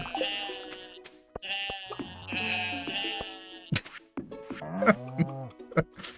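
A flock of twelve sheep in the video game Stardew Valley bleat in a string of clear, fairly close calls, overlapping at times, with short gaps of quiet between them.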